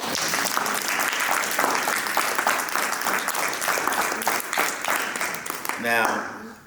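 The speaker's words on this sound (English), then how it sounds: "Let's give a round of applause for James Akbar Bryson." An audience at a community screening event claps loudly and continuously for a performer, steady dense applause that fades out at the close as a voice begins.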